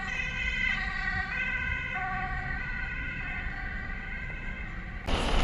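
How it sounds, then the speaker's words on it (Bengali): An ambulance siren wails steadily in road traffic, its rising and falling tones continuous and fairly close for several seconds, with engine rumble underneath and a louder burst of noise at the end. "এখানে অ্যাম্বুলেন্স আসলে সব গাড়িগুলো থেমে যায়।"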